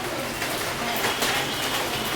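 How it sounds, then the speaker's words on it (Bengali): Light rain falls steadily outdoors, a soft, even pattering with scattered drops and no break across the whole stretch. "আজকে সারাটা দিনই বৃষ্টি হচ্ছে"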